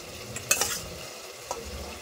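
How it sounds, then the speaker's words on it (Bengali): Fried potatoes tipped into chicken in an open pressure cooker and stirred, a soft continuous sizzle with a couple of sharp scraping and clinking stirs, close by and without talk. "এবার এর মধ্যে ভেজে রাখা আলুগুলো দিয়ে দিচ্ছি।"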